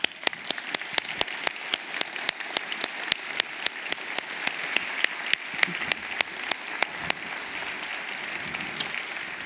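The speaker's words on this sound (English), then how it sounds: "I would like you to join me to applaud my colleagues who have made this happen" Conference audience applauding the organisers, a dense steady wash of many hands clapping, with a few loud, close, evenly spaced claps cutting through the crowd applause for the whole stretch.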